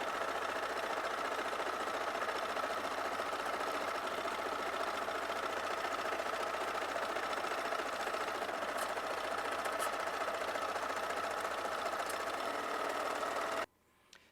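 A Viking sewing machine stitches a waffle stitch with a steady, continuous mechanical whir for about thirteen seconds before stopping abruptly.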